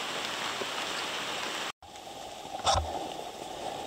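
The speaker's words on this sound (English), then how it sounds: "This is the creek." A creek flows along a walking track, making a steady broadband rush close by. A brief cut interrupts it, and then the water continues, with a short rustle or knock partway through.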